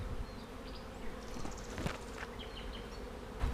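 Bees buzz close by, a dense droning hum with several individual insects flitting past, fairly quiet and steady, no talking.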